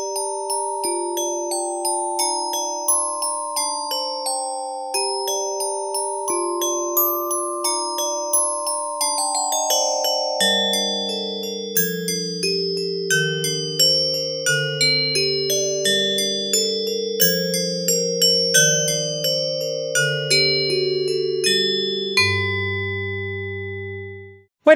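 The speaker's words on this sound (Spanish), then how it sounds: "Por acá tengo otra librería de instrumento más, se llama Orff Chimes y suena así." Orff Chimes virtual instrument library plays a melody of bright, bell-like struck tones that ring with a shimmer. Each note is a clear, regular hit, and the tune steps gradually downward to lower chimes, with no voices present.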